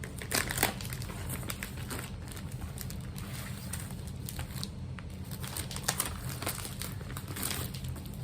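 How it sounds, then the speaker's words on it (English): Plastic packaging is crinkled and handled close by in short, irregular rustling bursts, soft overall with a few sharper crackles. "Sorry for the crinkling and etc."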